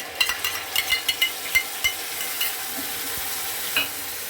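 Veg manchurian stir-fried in a pan with red chili sauce and soy sauce, a run of sharp scraping stirs and light sizzle, close and moderately loud, with no talking.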